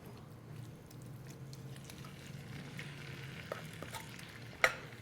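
Jackfruit curry sizzles steadily in a pan, a continuous frying crackle with a few stirring clicks and one sharp clatter near the end, close and alone.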